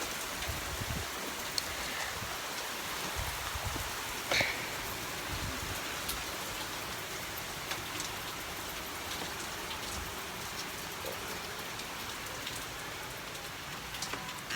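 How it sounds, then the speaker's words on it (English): Steady heavy rain pours onto an outdoor surface, a dense continuous hiss with scattered louder drops and a brief patter burst, no voices. "I'm gonna go inside because it's raining pretty bad."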